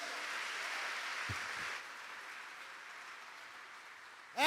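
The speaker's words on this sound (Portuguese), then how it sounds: "Você pode dar mais um aplauso a Jesus?" A church congregation applauds for Jesus at a Portuguese-language sermon, a soft, steady wash of clapping from the crowd that thins after a couple of seconds and fades toward the end.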